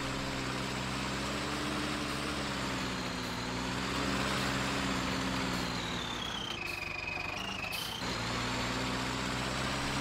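A tractor engine in the Farming Simulator 19 game drones steadily at a low pitch and close range. A rising whine briefly shifts the tone near the end, and nobody speaks over it.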